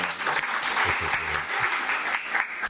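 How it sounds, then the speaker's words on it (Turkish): A studio audience at a Turkish talk show claps steadily through a short burst of applause, full and close, with a voice briefly audible underneath. "O zaman bir alkış alıyoruz."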